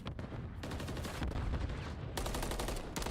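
Rapid bursts of pistol gunfire in a competitive Call of Duty Control match between the Los Angeles Thieves and Carolina Royal Ravens, loud and dense with several separate volleys packed into a few seconds, no talking.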